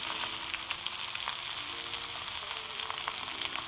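Leek searing on a Petromax fire bowl, a soft continuous sizzle with scattered little crackles and pops, fairly quiet and with no one speaking.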